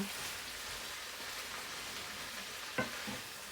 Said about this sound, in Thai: ผัด ผัดกระลำนะคะ ผัดกระลำใส่ไข่